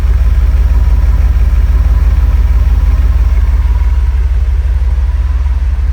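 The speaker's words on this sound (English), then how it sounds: "Give a little listen to the exhaust rumble." A steady, deep exhaust rumble from an idling 1989 Mercedes-Benz 560 SL, loud and close, with an even low throb throughout and no voices.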